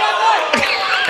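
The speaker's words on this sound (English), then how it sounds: "Grandmother's cheering for him." A grandmother cheering from the bench at a college basketball game, Bethel at WKCTC, giving a brief, loud, high-pitched whoop that blends with crowd noise in a gym.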